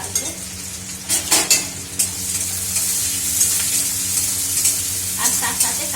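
Onion and green chili fry in a pan with a steady sizzle, while a utensil stirs in scattered scraping knocks.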